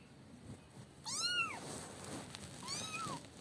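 A small kitten meows twice, first a longer rising-falling cry and then a shorter one, close and clear over a quiet room with no talking.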